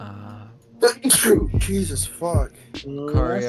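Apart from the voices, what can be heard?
sneeze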